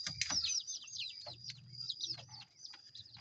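Red junglefowl, a decoy rooster and wild birds, heard as rapid quiet clucks and high chirping calls in quick bursts, fairly faint and close, with no talking.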